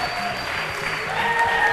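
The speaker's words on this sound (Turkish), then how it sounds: "Bol alkışlarla sizi mor masaya alıyorum." A studio audience at a Turkish television talk show applauding as guests are welcomed, with dense, steady clapping from many hands sustained at an even level for a couple of seconds.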